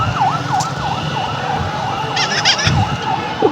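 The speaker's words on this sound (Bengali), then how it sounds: "আরও একটা অ্যাম্বুলেন্স নিয়ে আসছে" An ambulance siren wails in a repeating rising-and-falling pattern as it pulls up to the National Burn Unit, loud and close over street traffic, with a few sharp higher tones briefly overlapping midway.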